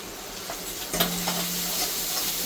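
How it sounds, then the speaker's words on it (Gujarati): Brinjal mash (ringna olo) being stirred in hot oil, a steady close sizzle with soft scraping strokes and a brief louder clatter of the spoon partway through, no voices. "ખૂબ હલાવી લેવાનું"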